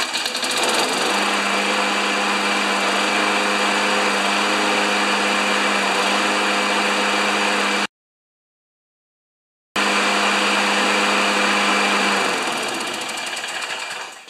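A John Deere 14PZ push mower's small engine runs at a steady high idle with a constant buzzing drone, cutting out briefly to silence before restarting and running on evenly.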